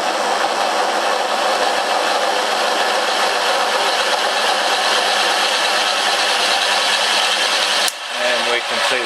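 A bearing motor, switched on to spin backwards, gives a loud, steady broadband whir and rattle up close, holding constant before an abrupt change near the end.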